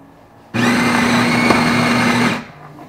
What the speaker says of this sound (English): So the G3 grinder has just ground our coffee precisely.